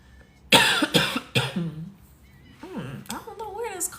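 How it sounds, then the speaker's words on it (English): Several harsh coughs in quick succession, close and loud, followed by voiced strained sounds and throat noises. "I don't know where this coughing is coming from."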